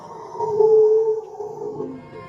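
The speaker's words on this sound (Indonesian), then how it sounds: "Namun suara itu berubah menjadi suara auman yang membuat Ani menangis ketakutan." A long, wavering animal-like howl rises and sustains, loud and close, then fades into a lower, rough tail, standing for a monster's roar in a horror film, The Boogeyman.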